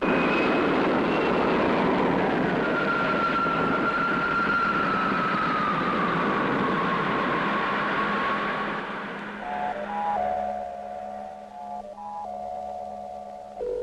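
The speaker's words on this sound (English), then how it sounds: "Takeoff program starting now." A roaring spaceship engine at takeoff from a 1962 science-fiction film builds as a loud, continuous rumble with a sweeping whine, then thins out as electronic beeping tones take over near the end.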